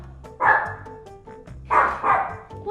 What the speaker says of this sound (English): What a good guard dog, saving us from that scary ice machine